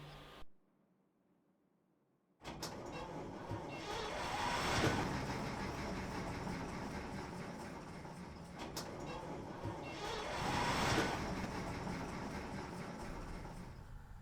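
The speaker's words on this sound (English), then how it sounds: "At least the engine's turning over." An old engine cranks and turns over but won't catch. After a brief silence, a loud, steady churning starts up and swells twice in long surges.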